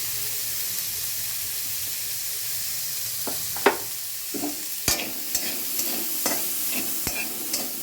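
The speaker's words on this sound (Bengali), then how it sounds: "ব্যাস, কিছু না, জাস্ট নেড়ে নিচ্ছি" Spiced potato mixture with dried chilli and ground black pepper stirred in a frying pan, a steady soft sizzle broken by several distinct spoon scrapes and clinks that grow more frequent toward the end, no talking.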